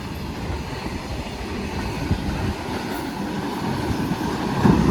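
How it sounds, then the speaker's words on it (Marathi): A freight train of goods wagons rolls past a railway station in Beed district, a loud continuous rumble and clatter of wheels on rails that builds slightly toward the end, no speech. "अचानकच आली ही ट्रेन"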